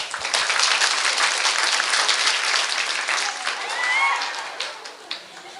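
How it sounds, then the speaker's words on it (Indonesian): An audience at an Islamic boarding school, PP Nurussathi in Banjarnegara, breaks into loud, sustained applause that swells, then tapers into scattered claps, with some voices mixed in. "Tepuk tangan kita Rafi."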